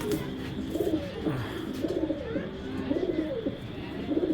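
A racing pigeon coos repeatedly in low, rolling phrases, close and steady, with a soft room hum behind it.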